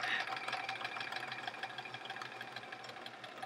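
Sewing machine stitching a checkerboard quilt border, a rapid even run of needle clatter and motor whir, fairly faint and steady, alone without talk.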